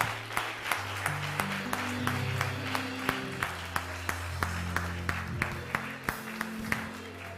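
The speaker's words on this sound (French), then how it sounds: "Acclame très fort le Seigneur." A church congregation applauds in praise of the Lord, crisp regular claps ringing out in a steady rhythm over sustained music, lively and full across the whole stretch.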